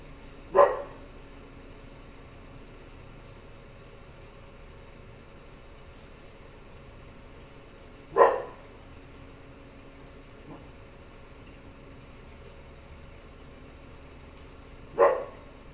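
A dog barks indoors, three single barks spaced several seconds apart, each short and moderately loud against a quiet background.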